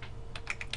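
Rapid light clicks of typing on a computer keyboard, a handful of close, crisp keystrokes in a quiet room while entering a date into a spreadsheet.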